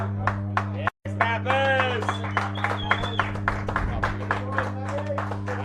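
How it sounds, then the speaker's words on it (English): A cricket crowd at an England Masters versus Australia Masters World Cup match applauds, the clapping faint and spread out in the background beneath a commentator talking over it. "Big round of applause from the crowd here"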